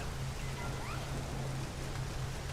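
Rain falls steadily at night in the Nioh video game, a dense, even hiss of drops on surfaces with a low continuous hum underneath and no talking.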